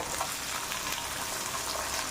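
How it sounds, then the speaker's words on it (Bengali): Capsicum pieces briefly frying in a pan, giving a steady, even hiss of hot oil with light crackle throughout, close and continuous with no talk. "ক্যাপসিকামগুলো ওরকমভাবে অল্প ভাজতে হবে, যাতে একটুখানি কচকচা ভাবটা থাকে।"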